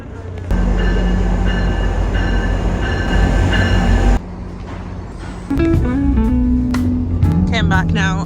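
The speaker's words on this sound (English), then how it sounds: "I'm just waiting for the train now" A train rumbles loudly through a station on a cold day in Toronto, with roaring wheels and a steady drone, then shifting tones and squealing as cars pass close by; a voice talks briefly over it.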